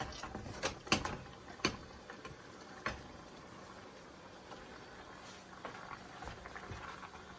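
Pasta shells drop into a pot of boiling water for creamy beef and shells, giving a few quiet taps and knocks early on over a faint, steady bubbling hiss.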